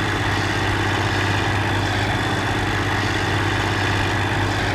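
An old tractor engine idles in a farming video game, a steady low rumbling drone with constant vibration that stays close and unchanged throughout.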